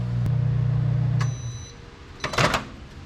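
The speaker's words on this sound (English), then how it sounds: "Throw it in the microwave," A steady low microwave hum runs for over a second, then stops; a few faint beeps and clatter follow.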